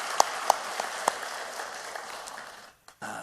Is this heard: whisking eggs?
no